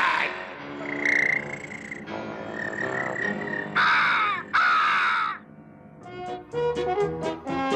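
A cartoon crow from the Smurfs gives a run of harsh caws, several drawn-out croaking calls in sequence with two especially loud ones near the middle, then a shorter choppy burst at the end.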